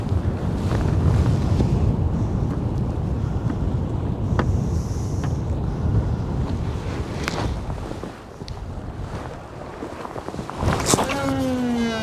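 Strong wind buffeting the microphone on the Bristol Channel during a bass fishing trip, a continuous low rumble and roar with occasional gust peaks and brief clicks of handling, a voice briefly near the end.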